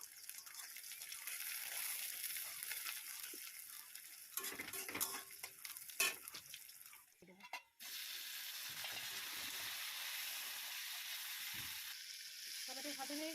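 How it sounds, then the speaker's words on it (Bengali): Tomatoes and green chillies sizzle steadily in hot oil for a spicy fish curry, a continuous close frying hiss broken midway by stirring scrapes and clatter, then resuming evenly. "টমেটো ভাজা হয়ে গেছে।"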